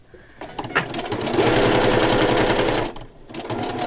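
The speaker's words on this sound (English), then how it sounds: "I know, she's sewing so fast." A sewing machine stitches fast in a close, steady mechanical whir, building up and holding for over a second before slowing and stopping.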